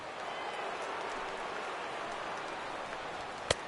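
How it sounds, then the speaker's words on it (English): Heavy rain pours steadily on a ballpark in the baseball game MLB The Show 16 during a Yankees at Red Sox matchup, a constant hiss with one sharp click near the end. "That rain is really coming down now."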